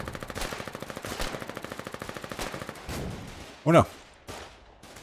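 Rapid automatic gunfire from the war game Foxhole rattles in steady bursts through the first three seconds, with scattered single shots after, and a brief spoken exclamation near the end.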